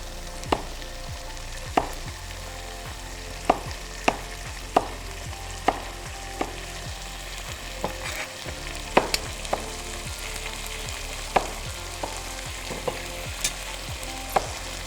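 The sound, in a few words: chicken frying in a pan while being stirred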